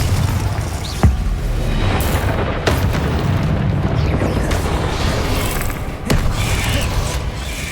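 Confringo fire spell blasts in Hogwarts Legacy, a magic-combat video game: loud, dense rumbling explosions with sharp impact hits at irregular moments over a constant roaring wash of battle noise.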